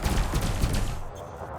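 Ship cannons on a Fer-de-Lance in a space game fire in a dense, loud rattling burst that fades out after about a second.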